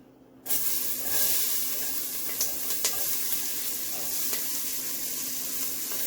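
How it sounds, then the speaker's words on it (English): Onion and garlic hit a hot pan for a Jamaican steamed fish, bursting into a loud, steady sizzle that carries on close and even, with a few faint clinks. "And now we're gonna add our onion and garlic."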